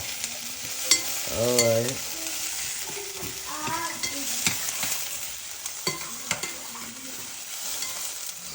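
Sliced peppers sizzle and fry in a pan while being stirred, a steady close crackle with scraping strokes throughout; a voice speaks briefly over it.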